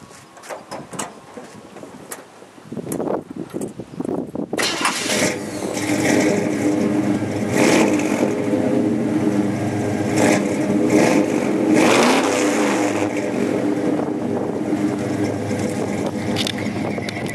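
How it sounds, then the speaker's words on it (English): A 1975 Chevy K10 stepside shortbed 4x4 pickup with a stroker engine and aftermarket pipes cranks over and fires, then settles into a loud steady throaty idle with occasional throttle blips, close by and without talk. "Nice set of pipes. Nice sound. Stroker motor."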